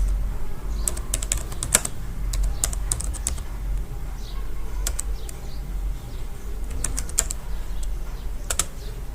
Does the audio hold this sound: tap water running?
no